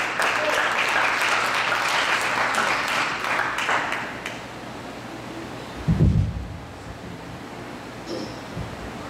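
An evangelistic church congregation applauds loudly for about four seconds, the clapping fading into a quiet, hissy room. A brief low thump follows, and faint voices murmur underneath.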